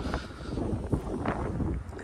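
Gusty wind blowing outdoors on a cold, cloudy day, a steady broadband rush buffeting the microphone for the whole stretch, with one brief louder gust near the middle and no clear talk.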